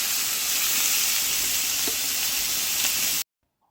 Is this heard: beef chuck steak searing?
yes